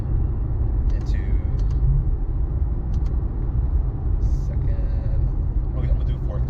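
A steady, loud engine rumble from a 2012 Lexus IS F plays as it downshifts, with faint higher mechanical ticks over the constant low drone.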